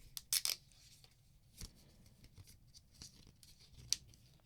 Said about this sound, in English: we'll go ahead and unwrap the packaging here